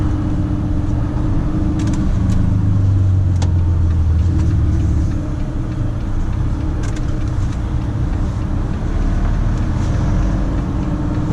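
Heavy truck engine rumbling steadily while driving on winding suburban roads between Sköndal and Farsta, with a low droning note that swells as the driver accelerates and brakes.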